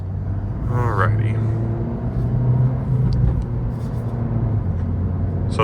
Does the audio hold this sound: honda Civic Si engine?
yes